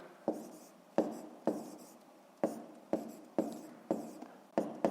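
Pen strokes on paper while working a fifth-grade math exercise, close and quiet, a series of about nine short sharp taps and scratches at uneven intervals.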